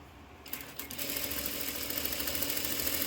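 A sewing machine runs steadily, stitching along the edge of a bias binding, its motor hum and rapid needle chatter starting after a brief pause and continuing close and even.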